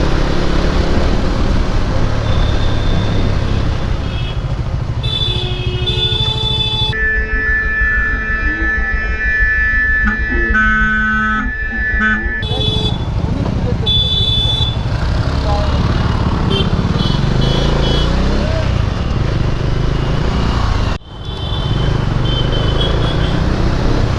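A Bajaj Dominar motorcycle being ridden, its exhaust giving a loud continuous engine drone with shifting revs and wind roar, broken by a brief dip near the end.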